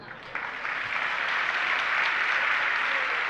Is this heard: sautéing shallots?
no